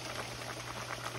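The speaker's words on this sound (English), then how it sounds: "We're gonna start frying this fish" Breaded fish frying in hot grease, a steady dense sizzle and crackle, soft and continuous with no talk.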